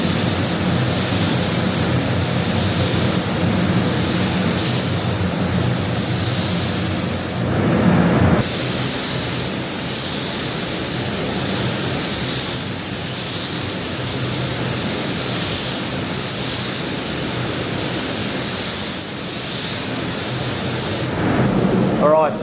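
Spray gun laying main paint coats onto a car body during a restoration, a steady loud hiss running nearly throughout with two brief pauses as the trigger is released.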